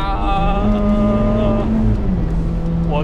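Ferrari F8 Spider V8 exhaust snarls close up through a quick downshift, with stepped rising and falling engine tones blipping between gears against steady wind noise.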